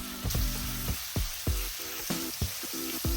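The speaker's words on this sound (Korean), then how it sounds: "언제 들어도 고기 익는 소리는 아름답습니다." Korean beef tendon (Hanwoo) sizzling and frying in butter in a cast-iron pot, a steady crackling hiss broken by repeated scraping knocks as it's stirred.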